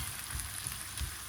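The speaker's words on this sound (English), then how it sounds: "So just frying this a little bit for 5 minutes" Chicken and mushroom pasty filling fries gently in a pan, giving a steady, soft sizzle with faint crackles throughout and no talking.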